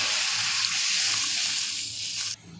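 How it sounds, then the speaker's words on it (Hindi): Water is poured into a hot pot of chickpea rice seasoned with crushed red chilli, whole cumin and pulao masala, giving a loud, continuous hissing sizzle for a couple of seconds before it cuts off. "अब इसमें हम पानी डालेंगे"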